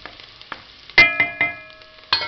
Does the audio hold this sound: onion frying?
yes